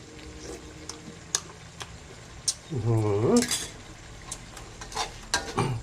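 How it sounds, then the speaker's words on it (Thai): Pork for spicy Thai khua kling is stir-fried in a pan: a spatula scrapes and clinks, and a short burst of sizzling and stirring rises in the middle. A voice is heard faintly in places. "พอผัดไปจะจนหมูสุกแล้วนะครับ"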